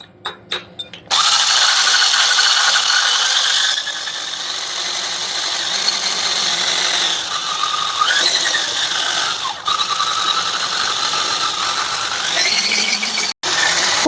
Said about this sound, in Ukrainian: Збиваємо спочатку на невеличкій швидкості.